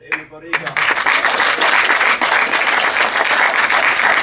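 Audience at a film festival event bursting into applause for the host, a voice speaking briefly at the start before loud, dense clapping takes over and stays steady.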